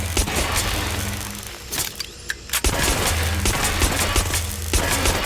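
Sustained bursts of gunfire in Watch Dogs: Legion, dense and loud, rattling nearly continuously with a brief pause in the middle before the shooting resumes.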